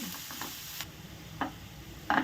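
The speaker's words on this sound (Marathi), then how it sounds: "कांदाही आपला सोनेरी रंगावर चांगला भाजून घ्यायचा आहे" Onion frying to golden in a pan gives a soft, steady sizzle with a few brief scraping stirs, heard close but faint.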